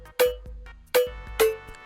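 Two snare drums layered together in a Moombahton remix, striking three times in a steady pattern, each crack bright and loud with a short tonal ring, plus softer kick-like thumps between them.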